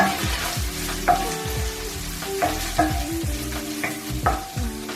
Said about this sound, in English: In goes in my cooked prawns. Give that a nice stir.